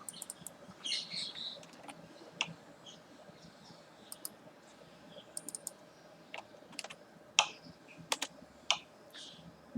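A computer keyboard is typed on softly in short irregular bursts of clicks, close but quiet over a faint background hum, with a few distant bird chirps.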